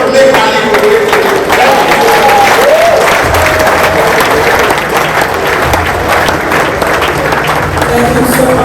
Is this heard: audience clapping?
yes